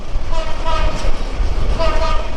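The Burimari Express passing through Joydebpur railway station rumbles loudly with a deep, continuous roar, and a horn-like tone sounds twice briefly, close and heavy throughout.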